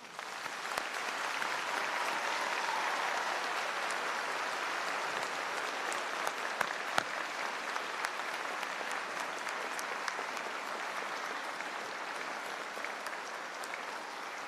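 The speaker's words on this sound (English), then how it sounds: "Graduates, a round of applause," A graduation convocation audience applauds in a large hall, with dense, sustained clapping from many people that stays even throughout.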